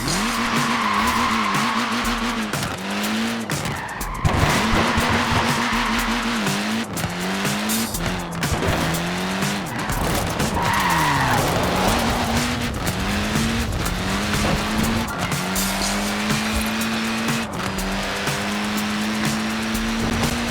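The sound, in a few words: Mini tyres skidding in Forza Horizon 4 video game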